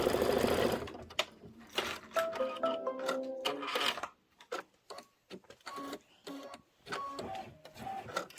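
Kimberbell embroidery machine stitching a decorative border on fabric for a pillow block, a steady rapid mechanical whir broken into short bursts with pauses between, close and fairly loud, no talking.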